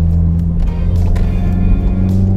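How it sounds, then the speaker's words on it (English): A manual-transmission car accelerates through its gears on the highway, its engine giving a loud, steady droning hum close by for a couple of seconds with no talking. "Start from first gear, of course, then shift to second gear when the time's right, then shift to third gear"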